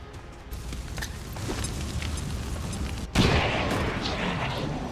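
A grenade explodes in XCOM 2 Long War of the Chosen: a sudden loud blast about three seconds in cuts through steady game ambience, and a rumbling tail lingers afterward.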